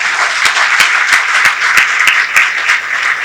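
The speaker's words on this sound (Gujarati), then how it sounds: "એના નામ લઈએ પેલા જોરદાર તાળીથી વધાવો" Audience applause welcoming three young guest trustees at a Saurashtra Patel community event, steady dense clapping from a sizeable crowd with individual sharp claps popping out, loud and continuous.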